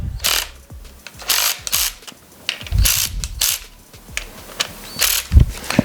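A ratchet clicks in repeated short bursts while tightening the timing chain on a Ford 5.4 2V engine, the close metallic ratcheting coming in quick runs separated by brief pauses and soft knocks.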